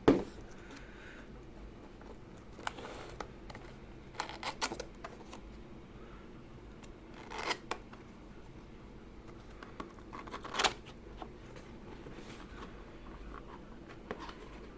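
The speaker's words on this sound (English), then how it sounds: "Okay, so let's unbox it." Packaging for a Tecware Phantom mechanical keyboard is handled up close, with scattered soft rustles, scrapes and crinkles of cardboard and plastic between quiet stretches of low room hum.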